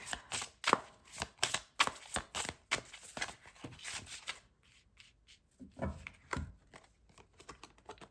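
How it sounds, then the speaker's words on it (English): Tarot cards being drawn and shuffled from a deck during a card reading: soft, close papery slaps and rubbing strokes in a quick rhythm, fading to quieter handling and a few faint rustles. "Let me grab a couple more cards out of this deck."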